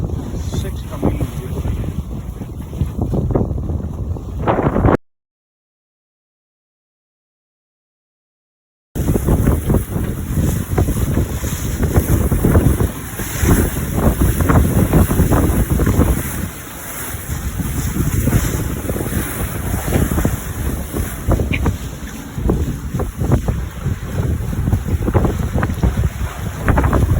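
A sailboat under two sails moving through wind at sea, steady roaring wind buffeting the microphone over splashing water, with a brief gap of silence early on and occasional voices.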